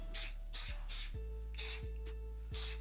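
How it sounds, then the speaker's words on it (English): Several bursts of aerosol hairspray hiss in quick succession onto hair, some short and some longer, close to the listener over a faint background hum. "I was just spraying my hair"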